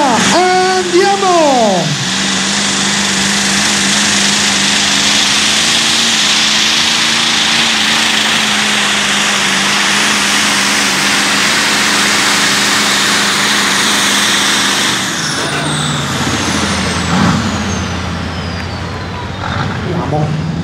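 Pulling tractor engine at a tractor pulling final screaming at high revs above 4,000 rpm, a loud sustained roar with a rising whine near the start and shifting tones later, under a commentator's voice.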